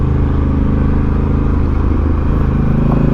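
Honda Africa Twin motorcycle engine held in first gear and winding up high, a loud, close, steady drone with no talk over it.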